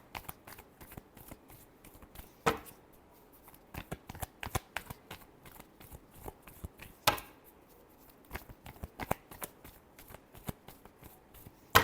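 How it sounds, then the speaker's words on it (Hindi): Tarot cards being shuffled by hand, a quiet close run of soft crisp flicks and riffles with sharper snaps now and then, irregular and continuous, without talk. "last shuffle"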